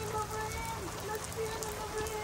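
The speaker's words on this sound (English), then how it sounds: "It kept raining." Rain falling steadily on a 2022 Pleasure-Way Ontour 2.0 camper van in Washington, a dense, even patter on the roof with faint voices underneath.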